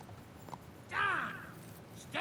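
Hooves of a horse in the video game Kingdom Come Deliverance, a brief nearby clopping with a whinny-like tonal cry rising over it, quiet overall.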